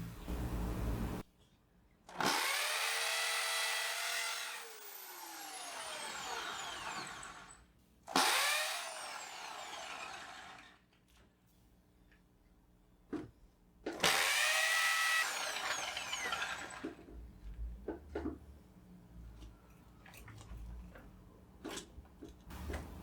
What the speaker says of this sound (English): this thing, which is supposed to help with not having so much dust while you're drilling